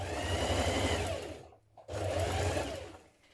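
Sewing machine stitching a dress shoulder seam, a close steady motor whir in two runs with a short pause between, no talking.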